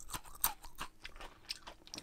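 Crisp crunching of someone chewing garlic chips and pork steak up close, with irregular bites and crackles over about two seconds, no talking.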